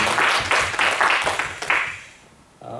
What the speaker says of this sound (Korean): 박수 한번 하실까요?